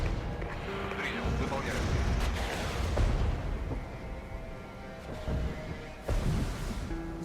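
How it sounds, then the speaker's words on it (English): Heavy artillery bombardment in an RTS game: a sustained, rumbling barrage of booming impacts and crashes with sharp bursts, loudest around the middle and again near the end. "let's bombard the hell out of this area"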